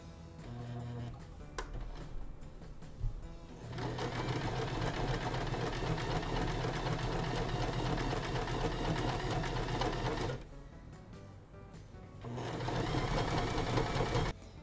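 A Janome sewing machine stitches a blind hem, its motor whirring steadily in two long runs with brief pauses between them, close and fairly loud, with no talking.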